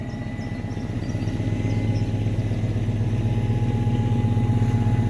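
LS-swapped 1979 Pontiac Trans Am V8 idling steadily after a remote start, a close, loud, even rumble with a faint fuel-pump whine above it and no talk.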